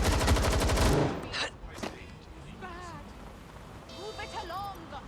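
A rapid burst of automatic gunfire from the video game Watch Dogs Legion on hard mode, loud and dense for about a second, then scattered single cracks under game character voices.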